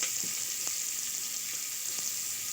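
Tempering spices for sambar frying in hot oil, a steady close sizzle with a few faint pops and light stirring taps, no voice.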